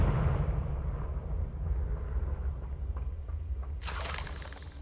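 A Confringo fire spell bursts in Hogwarts Legacy: a dense, rumbling roar of fiery noise that rises into a sharper, brighter blast near the end.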